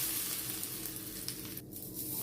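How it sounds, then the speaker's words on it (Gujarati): Mustard seeds and cumin sizzling in a spoonful of hot oil, a faint, dense, continuous crackling hiss, close and steady with no other sounds. "1 ચમચી તેલ ગરમ કરી એમાં રાઈ એડ કરીશું, સાથે જીરું એડ કરીશું"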